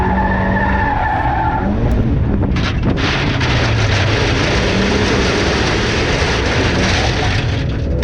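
A Mazda MX-5 race car skids under late braking into turn 1 at Donington Park, with loud tyre scrubbing and squeal over heavy wind and engine noise throughout.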